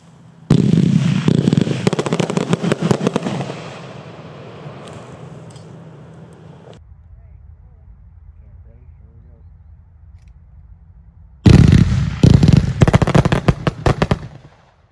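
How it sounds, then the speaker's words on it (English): A 12-shot fireworks finale box fires color stars all at once, a loud rapid volley of bursts and pops, a fading rumbling tail, then a second dense barrage of cracks near the end. "that's our 12-shot finale box color stars. These will launch, like I said, all at the same time."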